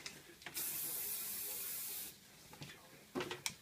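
Hairspray is sprayed onto hair styled in a vintage roll, one sustained hissing burst of about a second and a half followed by a few short spritzes, close and fairly soft.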